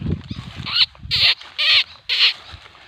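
A white-rumped shama mother bird gives a series of four sharp, loud call bursts with brief pauses between them, over faint rustling.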